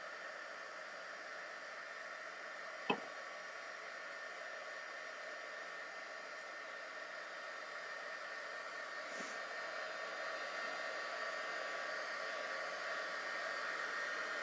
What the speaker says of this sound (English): I'm going to throw my heat gun on it for a minute just to make sure that my glue is drying in there